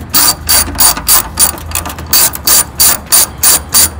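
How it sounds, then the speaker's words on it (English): Hand ratchet loosening fender brace bolts on a 1999–2006 Chevy truck, a loud close run of evenly spaced clicking bursts, about two per second, continuing throughout with no talk. "now we'll go ahead and remove our outer bolts for the fender brace"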